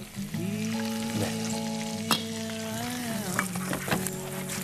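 Ingredients for canapés fry in a pan fully covered with oil, a close, continuous crackling sizzle with stirring scrapes and brief sharp pops, while a steady tone hums beneath.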